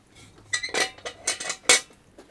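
Folding camping cutlery set handled close by, with a run of bright metallic clinks and rattles of utensils knocking together in irregular bursts over a couple of seconds, no talk.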